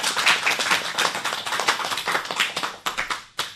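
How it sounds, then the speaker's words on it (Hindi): An audience of children claps at a school program to welcome a young girl performer, a dense run of quick hand claps that thins into a few scattered claps near the end. "चलिए बच्चों, तालियों की गड़गड़ाहट से स्वागत करते हैं"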